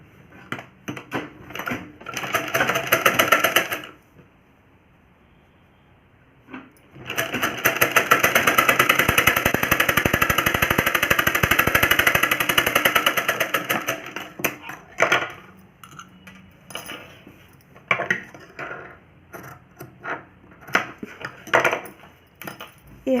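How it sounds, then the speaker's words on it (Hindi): A sewing machine stitches a finishing seam along a doubled blouse strip, running in a long steady burr, pausing, then a longer run followed by choppy short bursts and handling clatter. "इसकी फिनिशिंग के लिए हम इसके ऊपर एक सिलाई यहाँ पे लगाएंगे"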